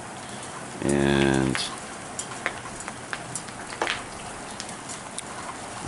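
Freezing rain falling outside in the early morning, a steady broadband patter with scattered sharper drip ticks, while a voice speaks briefly near the start.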